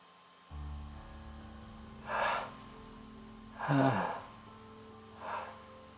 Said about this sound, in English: Falling rain.